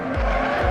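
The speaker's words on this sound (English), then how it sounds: "Very good braking." Supercar on the Nurburgring braking hard, a brief loud burst of tire squeal and skidding with engine noise, under a second long.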